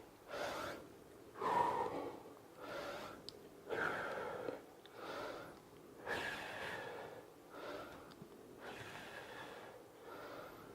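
Heavy rhythmic breathing during an at-home push-up workout, sharp exhales and snort-like breaths recurring about every two seconds, close and fairly quiet, with no talking.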